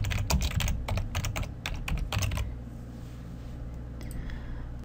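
Typing on a computer keyboard while entering button text in an Excel VBA user form: quick bursts of clicking keystrokes for about two and a half seconds, followed by quiet background hum.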